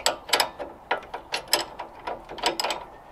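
Ratchet undoing a suspension nut during a lowering spring install on a MK8 Ford Fiesta ST, a series of quick close clicking bursts in uneven strokes, fairly quiet.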